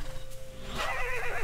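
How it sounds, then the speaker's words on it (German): A single horse whinny in the video game Angeldust, brief and shrill, rising over a low background hum. "Na, schon wieder ein Pferd."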